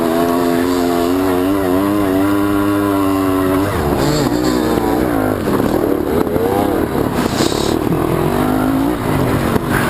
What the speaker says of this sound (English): He blipped his throttle, which is the international sign for get the hell out of my way.